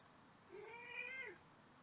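A single cat meows once, a drawn-out rising and falling call that is fairly close and clear against a quiet background, with no other sounds.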